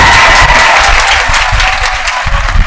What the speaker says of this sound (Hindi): एक बार इनके लिए जोर से ताली होना चाहिए।